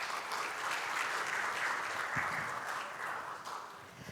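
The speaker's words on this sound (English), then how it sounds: "Please give them a round of applause." An audience at a business conference gala applauds warmly, a thick, even wash of clapping that stays strong from start to finish without voices.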